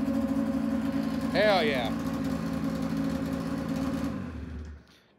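A Polaris Edge X 600 snowmobile engine idling in a garage, a steady close mid-pitched drone with a brief spoken exclamation over it before the engine cuts off near the end.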